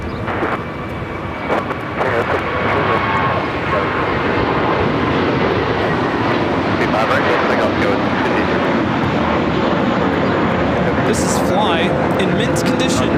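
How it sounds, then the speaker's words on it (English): A JetBlue Airbus A321 taking off from Los Angeles International Airport toward Boston, a strong sustained jet roar building and holding steady for several seconds, heard loud and fairly near with a voice talking over it. "Taking off to Boston, JetBlue 1488. It's an A321."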